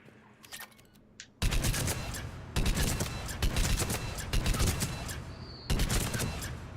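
Weapon fire from an assault-class gun in Mass Effect 3, sustained loud automatic bursts after a quieter opening, dense rapid shots running for seconds at a time with brief breaks between volleys.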